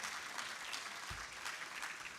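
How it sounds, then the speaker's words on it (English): An audience at an HIV service delivery summit applauds to welcome a speaker, a steady, fairly faint patter of clapping heard from a distance through the short stretch. "Let us give him a round of applause as he comes."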